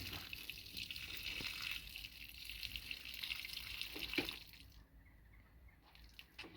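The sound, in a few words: pouring dirty water out of a bucket of crayfish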